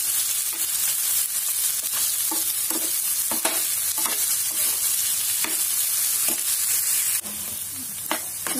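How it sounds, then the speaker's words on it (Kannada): Green beans and chopped tomato fry in a pan for a Karnataka-style palya, with a loud steady sizzle over the whole stretch and repeated sharp spatula strokes as the mix is stirred. "ಇದನ್ನು ಎಲ್ಲ ಚೆನ್ನಾಗಿ ಮಿಕ್ಸ್ ಮಾಡಿ ಒಂದು 5 ನಿಮಿಷ ಇದನ್ನು ಅದೇ ತರ ಹುರ್ಕೋಬೇಕು"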